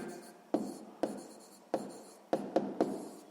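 Writing on paper or a board during a sixth-grade math lesson: a series of sharp tapping strokes with scratchy trails, about six marks in irregular rhythm, close and fairly quiet.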